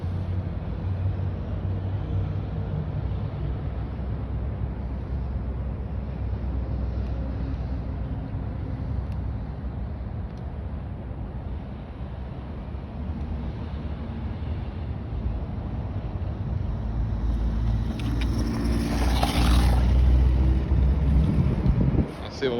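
A 1997 Graupner Racing Mercedes SLK radio-controlled car runs at speed outdoors, its motor a steady whir buried in heavy wind buffeting on the microphone, rising toward the end as it passes close.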